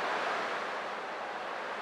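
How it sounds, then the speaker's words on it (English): Ocean waves in the Honkai Star Rail video game give a steady, loud wash of surf, an unbroken hiss with no voices over it. "I can still clearly hear the sound of the waves."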